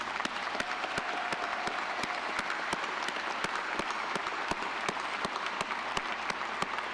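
A large audience applauds at the SUNY Broome 2022 commencement, a steady hall-filling wash of clapping punctuated by a few loud, distinct claps close by.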